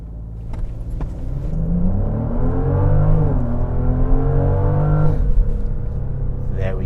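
A 2022 Genesis GV70 Sport Plus launches hard, its engine note, boosted by active sound management, rising in a loud, smooth climb, with a gear change partway through and a second rise after it, close and continuous inside the cabin.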